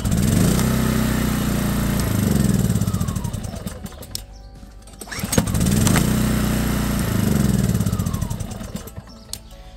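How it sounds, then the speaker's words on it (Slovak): An Excellway 2200W petrol generator is pull-started twice in a row while warm, each start bursting into loud, close engine running that settles and dies away before the second start revs up again. "Teraz vyskúšam opakované štarty."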